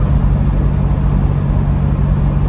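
Toyota 4Runner on the road: a steady, loud low rumble of engine and tyres from inside the cabin that holds evenly throughout, with no talk.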